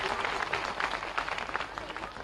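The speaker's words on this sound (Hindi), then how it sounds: "जोरदार ताली बजा करके स्वागत करिए" Crowd applauding at a political rally in Uttar Pradesh, a steady, dense patter of many hands clapping throughout, fairly distant and even, with a murmur of voices beneath.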